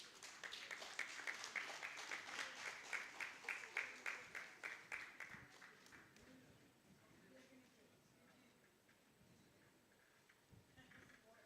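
Audience at a regional conference closing ceremony gives a round of applause, a rhythmic burst of clapping lasting about five seconds before dying away, followed by quieter background talk.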